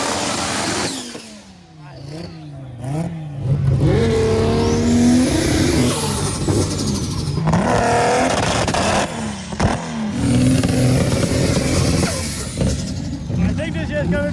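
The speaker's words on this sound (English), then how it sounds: "The complete drivetrain of an Audi Quattro, so it has Quattro and 5-cylinder in the front with a big turbo" A 1200 hp Audi Quattro drag car with a five-cylinder engine and big turbo revs hard at a drag racing event on a ski slope, loud rising and falling engine sweeps up close, with a voice talking over it.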